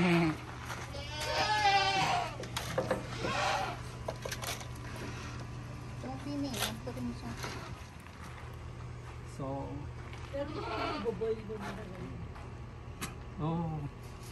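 On a California farm at milking time, goats let out several long, quavering bleats close by, spaced across the stretch, while people talk in the background.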